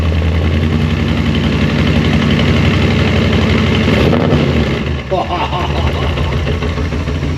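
A Holden HT with a swapped-in V8 engine runs loud and close, with a steady, throbbing idle rumble and a brief dip partway through before it settles back.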